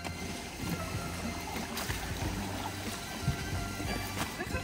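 A cardboard boat paddled on water, taking on water, gives off close, uneven splashing and sloshing with scattered sharper strokes throughout, over a faint background of voices.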